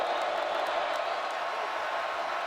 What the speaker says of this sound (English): So now the crowd, for the first time, will get loud.